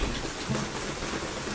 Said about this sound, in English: It's really raining a lot out here.